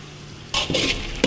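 Shrimp dropped into hot oil with garlic, a sudden loud sizzle bursting after a quiet moment, then a second surge of frying and a short clatter at the end.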